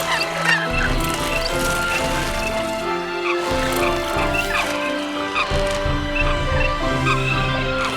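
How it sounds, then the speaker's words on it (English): Eurasian coots call on a forest lake, with several birds giving a dense, overlapping stream of short, harsh clucking and honking notes that carry steadily throughout. "The Eurasian coot would rather live in groups, but living in groups means conflict."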